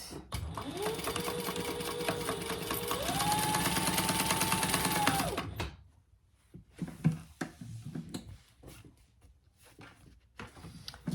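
A sewing machine stitches an outside fabric pocket for a nursery rhyme caddy, running steadily for about five seconds with its motor pitch rising partway through, then stopping, leaving quiet handling noises.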